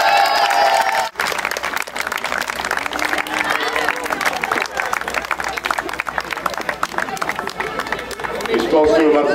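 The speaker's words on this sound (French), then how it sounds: "Applaudissements pour l'équipe de la Ligue du Centre." A crowd at a league walking challenge event applauds and cheers a team, sustained clapping and chatter mixed with a loud announcer's voice over a public address system.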